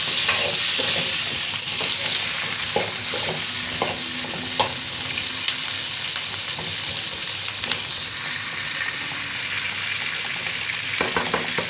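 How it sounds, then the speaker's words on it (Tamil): Drumsticks and onions sautéing in a pan for a tamarind curry, a loud, steady sizzle with scraping stir strokes throughout, no voices. "இப்போ இந்த வெங்காயத்தோட முருங்கைக்காயை நல்லா வதக்கிக்கிறேன்"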